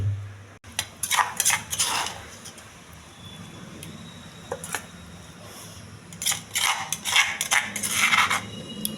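A spoon clinks and scrapes against a steel bowl in several bursts as mint and niger seed chutney is put in, with quieter pauses between the clatter.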